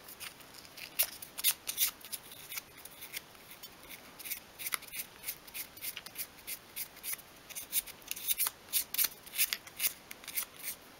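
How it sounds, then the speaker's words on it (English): Sandpaper rubs back and forth along the edge of a small 1/12th-scale wooden bedside cabinet, making a chamfer: close, dry scratchy strokes in a quick, uneven rhythm, heard alone. "take your sandpaper from front to back, and I'll just create a slight chamfer along the pattern there"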